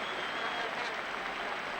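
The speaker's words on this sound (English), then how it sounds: "the Spanish crowd are generously applauding Trevor Francis" A Spanish football stadium crowd applauds England's Trevor Francis, a steady wash of distant clapping and crowd noise that holds evenly throughout.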